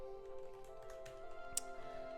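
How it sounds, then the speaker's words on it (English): Faint keyboard clicks tap irregularly beneath steady background music, one slightly louder keystroke standing out. No one speaks. "I'm typing it."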